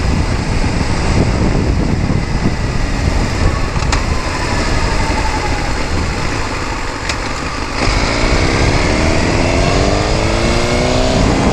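A 2012 Suzuki GSX-R 1000 motorcycle accelerates hard from a standstill to 60, its engine note climbing through the gears in a loud, continuous roar with a shift change partway through.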